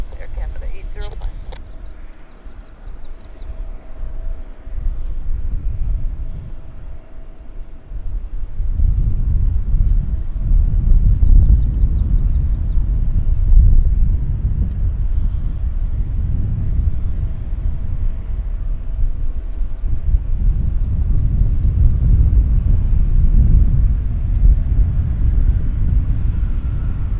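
Air Canada airliner landing at Vancouver Airport, a steady low rumbling roar that swells midway and holds, heard at a distance under wind and faint radio chatter.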